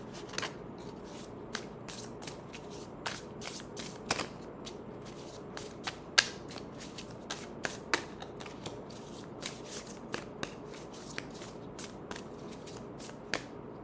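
Tarot cards shuffled and drawn by hand: a long run of crisp, close card snaps and riffles at an irregular pace, with sharper flicks standing out, no speech.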